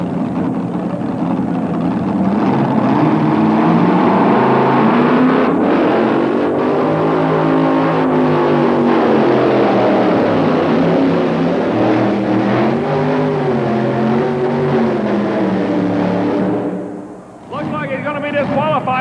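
A pulling tractor's engine roars loud and steady at a 1987 indoor tractor pull in Louisville, Kentucky, its pitch climbing and wavering as the revs rise, with an announcer talking over it throughout and the engine dropping off near the end.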